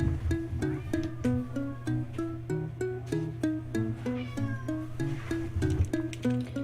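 A domestic cat meows for food over and over in a steady, insistent rhythm, close and fairly loud, with a low background hum and no talking.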